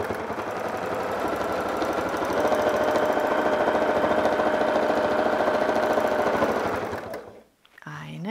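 A sewing machine hums and rattles in a fast, continuous run while quilting along a template, then slows and stops near the end, with a voice speaking over it.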